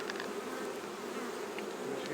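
Honey bees crowd over a hive frame, making a dense, steady buzz that stays close and continuous throughout, with no talking.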